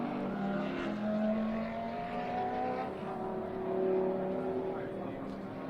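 Race cars in a three-hour South Island endurance series race run flat out, their engines a steady, continuous drone with shifting tones, while a commentator talks over them.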